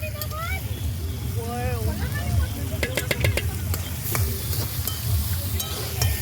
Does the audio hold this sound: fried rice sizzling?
yes